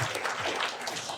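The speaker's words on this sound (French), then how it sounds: "Vous pouvez applaudir Salomé, hein." A crowd applauds Salomé at a big left-wing and ecologist union rally for municipal elections, a dense, steady wash of many hands clapping at even loudness throughout, with no voices standing out.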